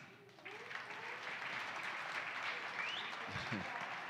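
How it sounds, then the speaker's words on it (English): Audience applause at an evening community crowdfunding event, a steady wash of clapping from a seated crowd that holds fairly even for several seconds. "a round of applause for you folks in attendance tonight."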